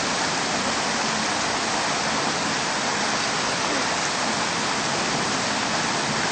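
Heavy rain pours down in Dapoli, a dense, even roar of falling water that holds steady and loud throughout, with no voices.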